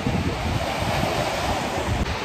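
Sea waves wash in at Fahaheel Beach in Kuwait, a loud, steady surf roar mixed with heavy wind buffeting on the microphone and no talk.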